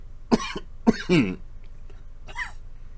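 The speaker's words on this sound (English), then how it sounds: "I got a cough." Two or three close, harsh coughs in quick succession, followed by a fainter cough after a short pause.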